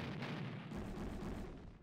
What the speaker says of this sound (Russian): Да где ж эта стрельба-то идет?